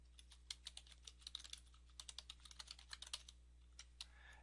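Fingers type on a computer keyboard, giving a quick, uneven patter of close, light key clicks with short pauses and no talk.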